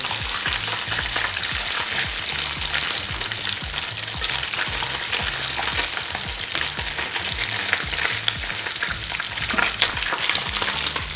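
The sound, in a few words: seabass fillet frying in a pan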